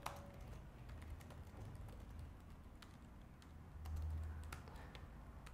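Light, scattered clicks of typing on a computer keyboard while editing a brochure in Google Docs, faint and irregular over a soft steady room hum, with no talking.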